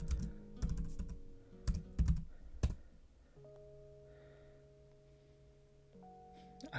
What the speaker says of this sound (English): Faster but kind of soft typing is nice